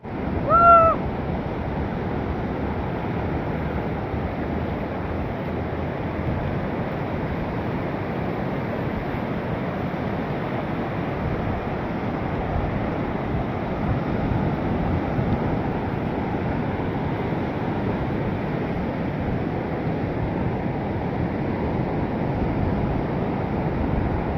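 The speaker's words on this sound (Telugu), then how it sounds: "అల్లలు అయితే మామూలు లేవు ఇంకా ఓ మా పైకి వస్తాయి" Heavy ocean surf pounds a Goa beach in steady, unbroken wash with wind buffeting the microphone, loud and close throughout with no voices.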